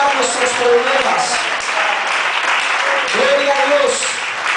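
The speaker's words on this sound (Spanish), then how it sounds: "Denle ese aplauso al Señor." Congregation at a church service clapping steadily for a few seconds, dense and continuous applause, with voices and shouts of praise mixed in throughout.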